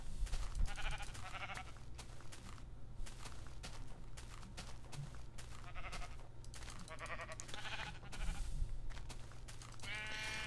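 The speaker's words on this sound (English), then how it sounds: "Actually, now that I think about it, I think there are tan sheep. There's light gray sheep, dark gray sheep, black sheep." Sheep of mixed tan, light gray, dark gray and black coats bleat in a farm setting, with several scattered calls rising over a steady low rumble and background noise across the stretch.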